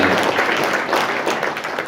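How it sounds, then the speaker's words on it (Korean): A crowd at a Korean women's political league branch gathering applauds an introduced guest with dense, steady clapping that fills the room for a couple of seconds. "네, 큰 박수 보내주시죠."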